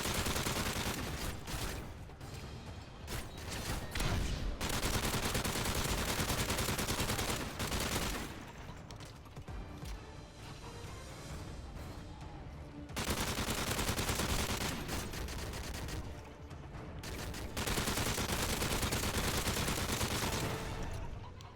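Bursts of automatic gunfire from the video game MW3 Survival on the Seatown map rattle loudly in long sustained volleys, separated by brief quieter gaps, with dense overlapping shots filling the sound.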